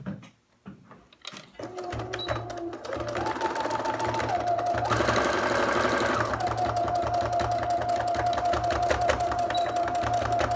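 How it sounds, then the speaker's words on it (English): A sewing machine running a close stitch on a folded T-shirt yarn strap: a few clicks, then a steady fast mechanical whir with rhythmic needle thumping, loud and near. "make sure it's not going to get hit by the sewing machine, and do a very close stitch"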